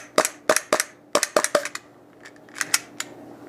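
A KSC Glock 19 gas blowback airsoft pistol fires BBs in sharp, close cracks, first six in quick succession, then a looser cluster of softer shots with brief hisses.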